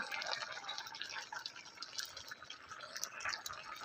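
Fried puti fish go into a bottle gourd curry simmering in a pot, bringing soft, faint bubbling and gentle liquid splashes in a quiet, continuous wash.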